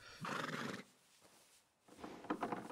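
A horse in Red Dead Redemption 2 lets out two loud neighs, a whinny, a short pause, then a second whinny, close and clear with no talk over them.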